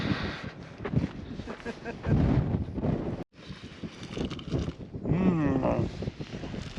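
Steady gusty wind buffets the microphone outdoors on a fair, mild day, a loud broadband rush that swells and dips for several seconds, briefly cutting out once, with voices talking underneath.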